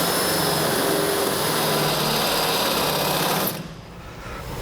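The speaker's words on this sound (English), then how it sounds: "we'll take a smaller bit and we can make a pilot hole and work our way up" A power drill boring a pilot hole with a smaller bit through the steel frame of a 2008 Ford F-250 truck, a loud steady whine running continuously for several seconds, then cutting off abruptly near the end and leaving faint background.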